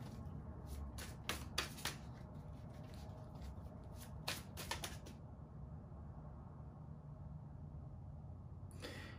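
Tarot cards being shuffled, a quiet series of crisp riffling bursts and papery flicks in the first half, then near silence with one more short riffle at the end.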